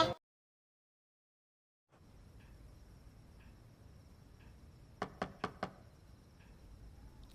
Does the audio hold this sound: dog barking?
no